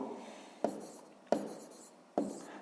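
A pen scratches out a math solution on paper in three short strokes, each starting with a tap, close and quiet with nothing else around.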